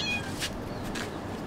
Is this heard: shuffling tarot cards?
no